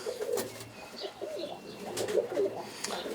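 Roller pigeons coo repeatedly in a breeding loft with one- to two-day-old squabs nearby, the soft low warbling calls rising and falling over faint rustling and background noise.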